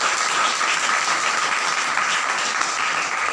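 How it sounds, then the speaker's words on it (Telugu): A church congregation applauds loudly for the whole moment, a dense and steady wash of many hands clapping at once, close and with no talk. "గట్టిగా చప్పట్లు కొట్టండి ఆయనకి."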